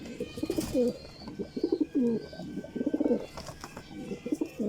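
Racing pigeons coo in soft, repeated low throaty phrases at close range, several bursts over a few seconds against quiet loft background noise.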